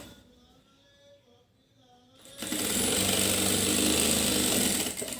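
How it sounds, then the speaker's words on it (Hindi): A sewing machine stitches fabric strips onto old cloth scraps, starting after a quiet pause and then running as a steady, loud, close mechanical whir until it winds down at the end. "देखिए, इस तरह से सिलाई लगाते हुए"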